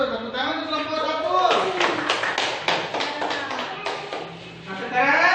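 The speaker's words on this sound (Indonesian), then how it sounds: "tepuk tangan untuk kelompok satu" A classroom of students claps for a group of classmates after their presentation, a burst of dense, overlapping hand claps with voices chattering throughout.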